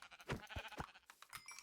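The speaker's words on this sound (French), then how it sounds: "Encore un mouton blanc." White sheep in the Minecraft video game bleat in a few short, quick calls, faint and close, with no talking over them.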